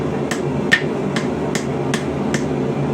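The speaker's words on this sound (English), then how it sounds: "Bring it down over the side of the anvil, tap it back up" A hammer taps a rebar scroll on an anvil while forging a snail, six evenly spaced sharp metallic hits in quick rhythm, close and clear over a low background hum.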